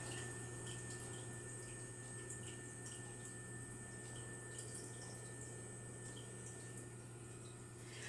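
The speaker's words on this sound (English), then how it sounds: "It's already slowly getting quieter with the water, the filter there." An aquarium filter runs steadily in a 10-gallon fish tank, a faint, continuous watery trickle and hum with no pauses and no talking.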